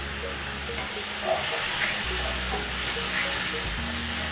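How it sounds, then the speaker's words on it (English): Mushrooms frying in a pan while being stirred for a noodle dish, a steady close sizzle and hiss with soft scraping stir sounds throughout. "just keep on stirring"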